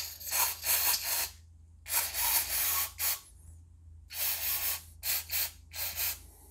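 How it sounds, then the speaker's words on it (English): Mass airflow sensor cleaner from an aerosol can hisses onto the sensor of a 1.6 TDI Volkswagen Passat in repeated short bursts close up, each lasting about a second, with brief pauses between them. "You need to use this type of mass airflow sensor cleaner because it's gonna leave no layer on the filament."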